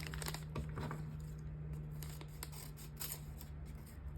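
Scissors snip through glossy magazine paper being trimmed for a journal, a few quick close cuts early on followed by light paper rustling and handling against a steady low hum.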